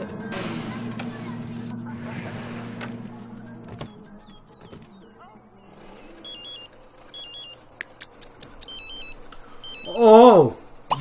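A phone rings in The Sims 3 video game as a few short electronic chirps and a warbling ring tone, with game sounds and a voice talking earlier.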